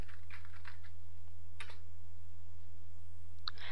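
Brief clusters of keystrokes as a command is typed on a computer keyboard, a few quick taps near the start, one in the middle and one near the end, fairly faint over a steady low electrical hum.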